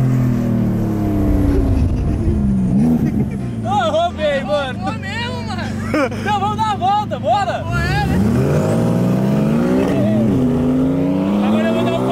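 Porsche revving and accelerating hard during an illegal street race, engine roar rising and sweeping in pitch, loud and close, with excited voices talking and shouting over it.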